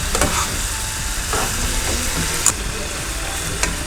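Fried chicken pieces stirred into a ginger masala in a pan, giving a steady close sizzle with scraping stir strokes and a few sharper clinks.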